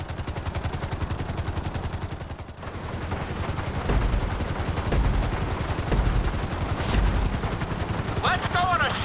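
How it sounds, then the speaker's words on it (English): A helicopter in Grand Theft Auto V chops steadily with a loud, rapid rotor pulse throughout, joined by sharp gunfire-like bursts and a voice speaking over it near the end. "we're gonna put you in a helicopter for this lesson"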